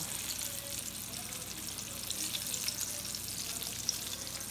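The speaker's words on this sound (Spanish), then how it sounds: "un sartén con bastante aceite y los vamos a freír" Breaded shrimp frying in a pan with plenty of oil make a constant, fine crackling sizzle at moderate volume, even and unbroken throughout, with no voices.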